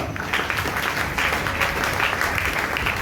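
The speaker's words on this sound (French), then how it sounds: "Est-ce que nous pouvons acclamer le Seigneur?" A church congregation applauds during a Sunday morning service, dense, loud and continuous clapping filling the room without a break.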